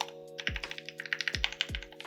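Typing on a custom mechanical keyboard with Novel Key Cream linear switches and GMK keycaps: a close, quick run of clacky keystrokes with a few deeper thocks from heavier presses, alone and fairly quiet.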